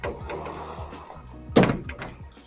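Pocket doors in a new-build home in the Oakleaf masterplan community in Jacksonville, Florida, rolling and knocking with a low rumble and one firm thunk partway through.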